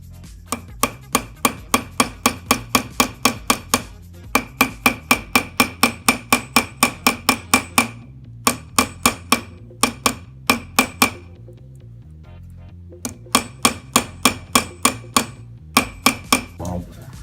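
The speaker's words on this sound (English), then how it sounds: "I don't need to hammer this too much." A jeweller hammering a wire rivet on a metal block, sharp rapid taps in bursts of steady rhythm with short pauses between runs, close and ringing.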